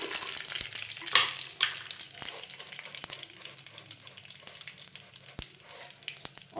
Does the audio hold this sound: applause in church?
no